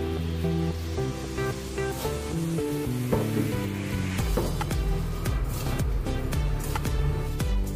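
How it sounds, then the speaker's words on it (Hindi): Pickle masala mixture sizzling in a pan while being stirred, a steady crackling fry under faint tonal background sound, with scraping bursts of stirring growing busier toward the end. "अभी हम सभी को मिक्स कर लेंगे।"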